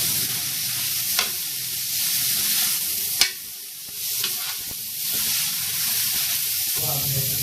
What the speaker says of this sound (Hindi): गाजर को भूनते हुए 5 से 10 मिनट हो चुके हैं